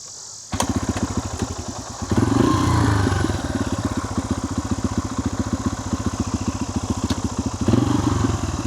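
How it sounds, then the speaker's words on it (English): A Yamaha TTR 125 trail motorcycle, its carburetor just cleaned and rebuilt, runs on a short ride with a close, loud, steady single-cylinder putter and a couple of brief throttle surges. "let's take it for a quick little spin"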